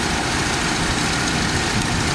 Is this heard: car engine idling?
yes